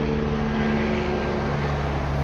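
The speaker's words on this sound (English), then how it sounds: "It's a helicopter" Steady, loud engine drone of an aircraft, most likely a helicopter passing overhead, filling the whole stretch with an even low hum and no talking.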